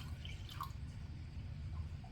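Water being added to a beaker during a colorimetry lab drips and trickles softly, with a few faint splashes over a low background hum, close and quiet.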